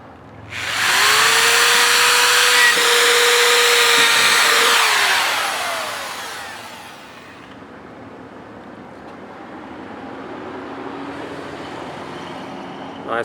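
A loud, high-pitched drill whine runs steadily for several seconds as a heated drill bit bores through rubber sealant on a food trailer concession window, then winds down into a lower rumble and quieter workshop noise.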